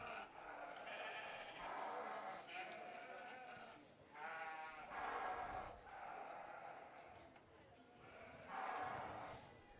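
Sheep bleat repeatedly at a county fair sheep showmanship class, several loud, wavering calls in irregular bursts close by, with crowd murmur and voices in the background.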